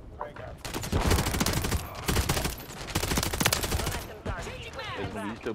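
Rapid bursts of automatic gunfire from a Modern Warfare 3 multiplayer match, dense repeated volleys filling the clip at close range with short gaps, while a voice is faintly mixed underneath.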